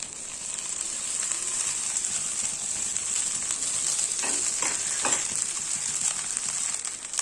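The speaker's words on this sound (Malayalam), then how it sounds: "ഞാനിപ്പോൾ 1 കപ്പ് ചോറ് ഇതിലേക്ക് ചേർത്ത് കൊടുക്കുന്നുണ്ട്." Cooked rice stir-fried in a pan with sautéed drumstick leaves sizzles in a steady, close hiss, with a few louder scraping stirs in the latter half.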